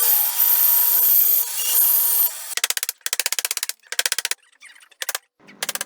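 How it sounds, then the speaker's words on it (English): A bandsaw cutting out a block of wood for a hand-carved statue: a sustained high whine with a steady hum, then several short rhythmic bursts of rasping, scraping strokes separated by brief pauses, close and loud. "First step, cutting out on the bandsaw."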